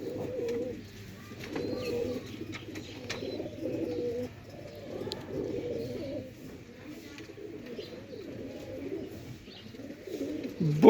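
Pure Sialkoti rooftop pigeons coo in repeated low, throaty rolling phrases, close by and overlapping across the whole stretch, with a few faint higher chirps and no voices.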